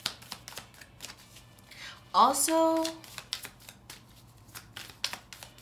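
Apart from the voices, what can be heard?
tarot cards being shuffled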